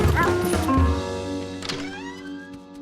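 A cartoon dog named Charlie from Curious George barks a few times over a sustained musical score, the barks short and bright against the tonal background.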